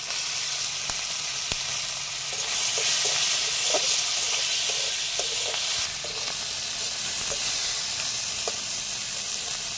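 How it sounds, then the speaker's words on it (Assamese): Fish sizzles steadily in hot oil in a kadai with fried garlic and green chillies, a continuous hiss broken by occasional soft clicks of a spatula, with no talking. "এইফালে এয়া কেৰাহীখনত পিঁয়াজ সিজিছে, ৰঙচুৱা পৰিছে। এতিয়া এই মাছখিনি দি দিম"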